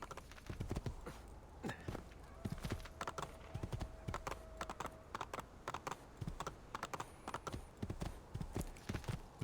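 Horse hooves clip-clop at a steady walking rhythm in the Assassin's Creed 2 video game, crisp and close, with a brief faint tone in the background.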